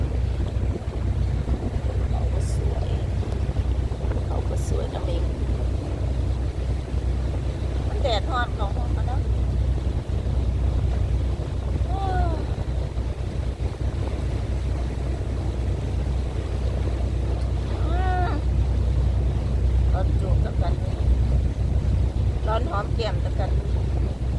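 A boat carries passengers back to shore from an island trip, its engine droning steadily under heavy wind buffeting and water noise, with occasional voices faintly audible.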